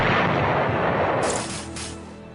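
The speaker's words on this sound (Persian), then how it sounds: "شلیک کن به سمت بالا و خمپاره ها رو بنداز" A mortar fired upward from a German U-boat base emplacement, a deep loud boom with a long rumbling decay, followed by faint crackling bursts.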